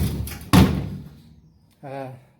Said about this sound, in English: I can get the door to close for you.